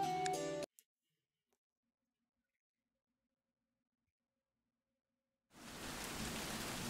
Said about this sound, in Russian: Дождик.